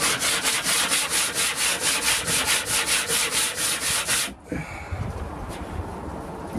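Sandpaper rubbed back and forth over a wooden shelf in steady, regular strokes, close and loud, about fifteen rhythmic passes before stopping abruptly, leaving a quieter room with faint handling noises.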